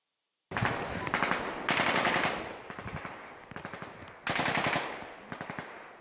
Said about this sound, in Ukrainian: Сепаратисти відкрили вогонь.